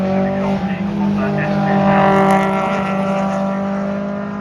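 A Honda S2000 Cup race car runs on the track at a time attack round, its engine holding a steady, loud, harmonic drone for the whole stretch with a slight swell midway.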